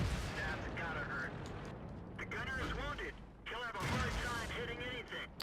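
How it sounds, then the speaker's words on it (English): Booming cannon shots from VK tanks in a World of Tanks battle, heavy low-end blasts and rumble under a continuous talking voice, with harmonic engine or shell whines rising in the middle. "there's a VK shooting at me"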